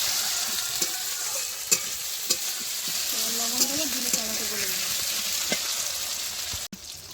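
Chopped fresh tomatoes sizzle loudly in hot oil in a pot of goat meat curry, a constant bright frying hiss with occasional spoon scrapes and clinks, cooked in a village home kitchen.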